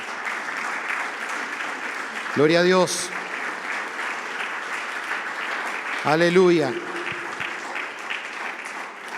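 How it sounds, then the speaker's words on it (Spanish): Congregation applauding in a Spanish-language church service, a steady wash of clapping under a preacher's voice, with two loud spoken exclamations standing out over it. "Denle un aplauso al Señor."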